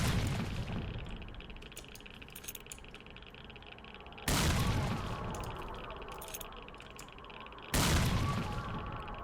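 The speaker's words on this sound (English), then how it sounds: "This is where we utilize grenades." Two heavy grenade blasts in the S.T.A.L.K.E.R. shooter game, the first near 4 seconds and the second near 8, each a sudden broadband boom rolling into a long rumbling decay over a constant noisy ambient bed.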